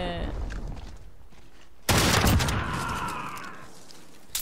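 Video game gunfire erupts in a sudden loud blast of shots partway through, after a quieter stretch of background noise, then decays into a lingering roar, with a faint voice early on.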